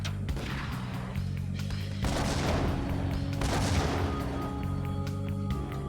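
Grenade blasts in a Max Payne shooter game, two broad roaring bursts around two and three and a half seconds over a dense, continuous bed of game gunfire and music, loud and close.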